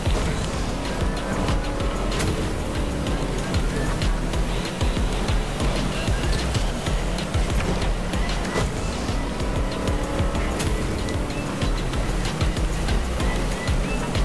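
Motorboat racing across water in the video game Fortnite, a continuous engine drone mixed with splashing surf and rushing water, loud and steady throughout.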